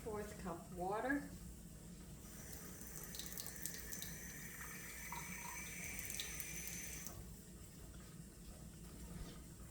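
Water runs from a tap into a measuring cup in a kitchen during bread making, a steady rushing stream for several seconds that stops abruptly, with a voice briefly at the start.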